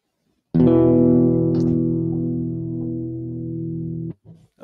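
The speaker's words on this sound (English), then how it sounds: "So here's a power chord in standard tuning." A guitar power chord in standard tuning rings out once loudly and cleanly, then sustains and slowly fades until it is cut off, followed by a faint brief rustle.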